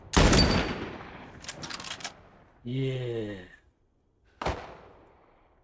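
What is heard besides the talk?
gunfire in The Last of Us Part I video game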